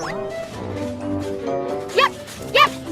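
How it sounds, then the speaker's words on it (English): A puppy gives two short, sharp yips near the end of the clip, close and fairly loud, over a soft background of music. "Barked the puppy."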